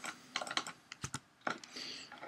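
A few soft computer keyboard keystrokes, heard close and fairly quiet, come in small clusters of taps during a Scratch hangman game, with brief pauses between them and no voice.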